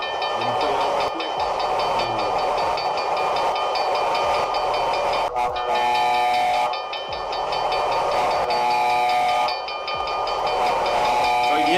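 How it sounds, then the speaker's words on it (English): A recorded monorail train sound plays loudly, a sustained rumbling hiss with repeated whistle-like tones and rhythmic clicks, cycling through several bursts over about twelve seconds. "So you hear the train? You hear the train and the lights going off?"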